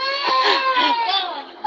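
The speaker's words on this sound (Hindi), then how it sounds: "आपके बैकग्राउंड में बच्चा रो रहा है" A baby cries in the background with a steady, wavering wail that rises and falls in pitch for nearly two seconds at moderate loudness.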